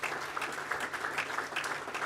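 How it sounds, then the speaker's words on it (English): Audience applause for an honoree at a College of Medicine announcement event, steady dense clapping from a room of people sustained throughout, moderately loud with no voices over it. "Big round of applause for Mr."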